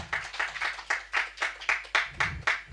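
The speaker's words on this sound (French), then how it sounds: "Applaudissons un peu la parole de Dieu." A church congregation claps together in a steady, even rhythm, about ten crisp claps in under three seconds, fairly close and with no talking over it.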